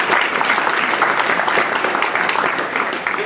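A large audience gives a sustained round of applause at the 2013 Kawana Electorate Queensland Day Community Awards; dense, steady clapping fills the room for the whole stretch, loud and close.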